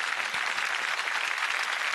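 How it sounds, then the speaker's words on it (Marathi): An audience on a Marathi singing competition stage claps loudly and steadily, a dense, even wash of applause lasting the whole moment with no voices over it. "संगीत सम्राटच्या मंचावर येणाऱ्या प्रत्येक स्पर्धकासाठी एकदा जोरदार टाळ्या झाल्याच पाहिजेत"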